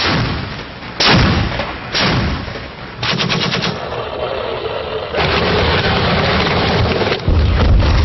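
Artillery in a combat zone in Helmand, Afghanistan fires repeatedly, with several loud, close booms and a rapid burst of gunfire, each with a rumbling tail over constant field noise.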